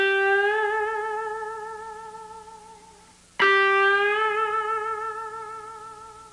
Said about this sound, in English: An expressive voice that the lead guitar player has is done by bending a string.